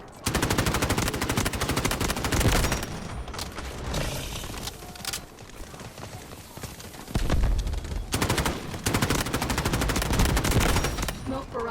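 The CI-19 rifle in Delta Force Mobile fires in loud, rapid automatic bursts, several long strings of shots separated by brief pauses, close and punchy.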